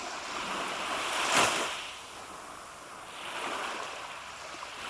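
Sea waves at a beach in Swanage, breaking close by in broad washes of surf, one louder crash early on followed by softer surges and a steady windy hiss, no voices.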